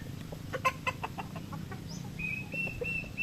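Chickens cluck in short scattered bursts while being fed, close and fairly loud over a murmuring background, with a few high chirps from other birds toward the end.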